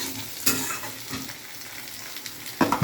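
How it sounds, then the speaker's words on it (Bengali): Chili and onion frying in a pan while a spatula stirs them, giving a steady crackling sizzle broken by a few sharp scrapes and clanks, close and fairly loud, with no talking. "তারপরে আমার মা এখানে দিয়ে দিল লঙ্কা আর পরিমাণ মতো পেঁয়াজ দিয়ে আবার ভালো করে খুন্তি দিয়ে নাড়াচাড়া করে নিচ্ছে"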